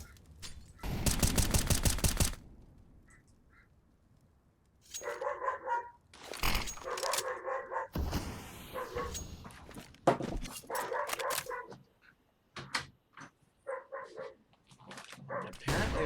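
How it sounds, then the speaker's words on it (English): Several neighboring dogs bark in bursts: a dense, loud volley of barks at the start, then scattered barks and barking runs through the rest, some close and loud, others fainter, with quiet gaps between. "Apparently my neighbor's dogs wanted to start barking"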